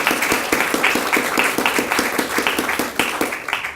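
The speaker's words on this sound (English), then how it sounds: "they really should get another round of applause, don't you think so?" Audience applause at an education talk: a steady, lively patter of many hands clapping, with some claps standing out close and sharp, sustained throughout with no speech over it.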